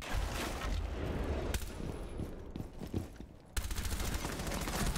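Rapid bursts of gunfire from a Rainbow Six Siege match rattle loud and dense, with a brief lull midway before the shooting resumes at full intensity.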